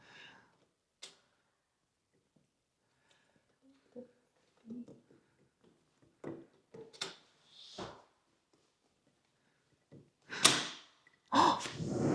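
A door on a mountain home is worked open with scattered clicks, latch rattles and soft knocks, ending in a couple of louder clunks and creaks as it swings open, with quiet voices nearby.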